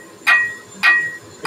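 Three sharp hammer blows on hot steel while forging cable damascus, evenly spaced about half a second apart, close and ringing with a metallic tone, no talk.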